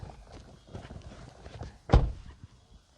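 A single solid thunk as the door of a 2021 Kia Sonet 1.0 Turbo GDI GTX+ swings shut, one sharp muffled slam standing out over low background rustle.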